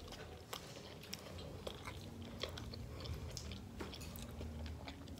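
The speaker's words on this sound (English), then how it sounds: "Today we're trying a Greek pizza" Someone chews a bite of Greek pizza topped with feta, olives, tomatoes and olive oil, soft close-up crunches and mouth sounds repeating quietly with a few sharper bites.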